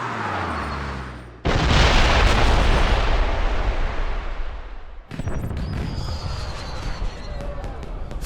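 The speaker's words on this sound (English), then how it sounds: "Did you know there were going to be fireworks?" Fireworks explode in a James Bond 007 Blood Stone video game cutscene near the Acropolis, a sudden loud broadband blast that roars on for several seconds, then a second burst with crackling pops and a faint whistle.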